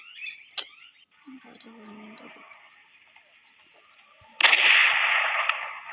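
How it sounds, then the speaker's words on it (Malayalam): A single sharp, cracking gunshot rings out early during a safari hunt, followed by quieter outdoor movement and then a loud burst of rushing noise, with people speaking nearby. "വെടിയാ വെടി വെടി വെടി"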